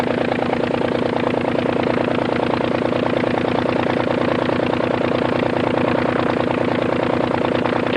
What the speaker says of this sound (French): 4h10, le moteur tourne rond. Brave Anzani.